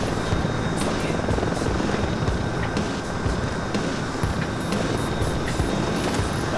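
An MH-60 helicopter in the Xbox game Delta Force Black Hawk Down drones on as a steady, dense rotor-and-engine roar throughout, with no one speaking.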